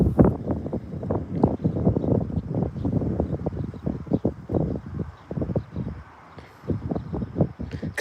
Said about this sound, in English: it's so windy. I didn't expect it to be this windy today.